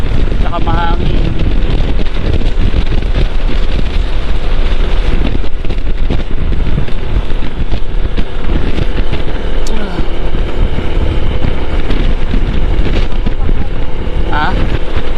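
Heavy wind buffeting roars over the microphone on a moving motorcycle, a constant loud rush with low rumble throughout, and voices talk faintly underneath.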